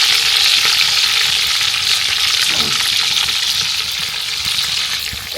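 Chicken pieces for kabsa fry in a pan with a loud, steady broadband sizzle, stirred with occasional scraping, continuous and close throughout in a village outdoor cooking setting.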